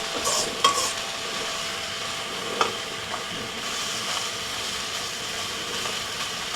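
Garlic chicken stir fry with tofu and green beans sizzles in a Man Pan wok set on a Volcano Grill: a steady, fairly loud hiss with a few sharp clinks of a utensil against the pan.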